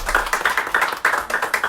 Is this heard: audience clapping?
yes